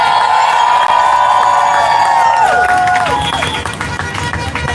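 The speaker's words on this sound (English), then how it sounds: "Let's give him a round of applause" A downtown Los Angeles protest crowd against ICE roars with loud, sustained cheering and applause, shrill tonal whistles or shouts rising over the din before the noise thins slightly toward the end.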